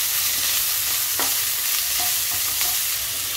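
Dal tadka ingredients frying in a pan with a loud, dense, continuous sizzle and occasional scrapes and taps of a stirring utensil, close up.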